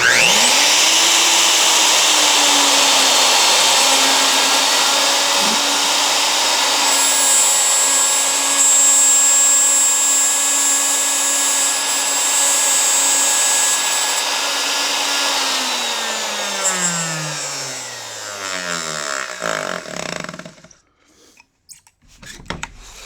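A handheld router with a guide bushing cuts an inlay, a loud, steady high whine close by that holds for about fifteen seconds before spinning down in a falling pitch to near silence, with no talk.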